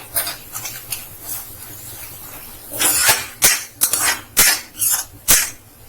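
Spoon scraping and stirring chilli powder and garam masala through a pan with oil, quiet at first, then a run of sharp, irregular metallic scrapes and clinks up close.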